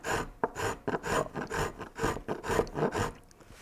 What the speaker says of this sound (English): I'm going to start carefully shaving off tiny little pieces.